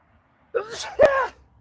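A single close, sharp sneeze bursts out of quiet: a quick inhaled build-up, then the forceful explosive release.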